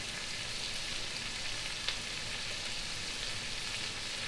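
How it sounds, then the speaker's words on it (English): Lamb shanks sautéing with tomato paste, rosemary and thyme in a hot pan, giving a steady, soft sizzle and frying hiss throughout, fairly quiet, with one faint clink partway through and no talking. "And we saute together everything"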